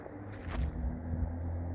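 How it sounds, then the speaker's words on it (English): A loud truck pulls away outside a home garden, its low, steady engine rumble holding throughout with a brief louder surge early on. It sounds moderately close and fairly loud, with no one talking. "sorry about that noise. That's my kid leaving in his loud truck."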